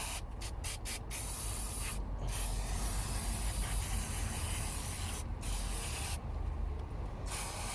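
A steady, close hissing spray of liquid runs almost continuously, broken by several short pauses between squirts, with faint rubbing and mechanical clicks underneath.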